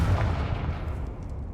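A Confringo blasting spell goes off in a video game: one loud, close, booming explosion that hits hard at once, then fades into a rumbling tail with no voices.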